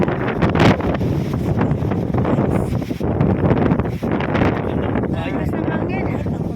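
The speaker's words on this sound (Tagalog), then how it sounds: "Lakas ng hangin." Strong wind buffets the microphone on an open farm, a loud continuous rumbling roar with gusty bursts that runs throughout while a person talks beneath it.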